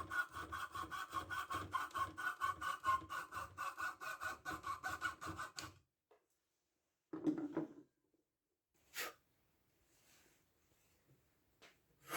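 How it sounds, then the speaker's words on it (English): A hand saw cuts out a wooden blank for a miniature Viking axe with fast, steady back-and-forth strokes, close and clear, then stops, followed by a few faint handling knocks and scrapes. "it was time to cut out the blank"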